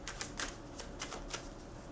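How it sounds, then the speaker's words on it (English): A deck of tarot cards is shuffled in a quiet room, a soft, rapid, irregular riffle of papery flicks at low volume. "I did not even mean to keep shuffling like this"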